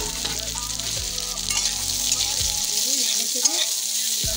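Fried potatoes and asafoetida hit hot oil in a pan with a continuous close sizzle, while a utensil stirs and scrapes now and then; no talking.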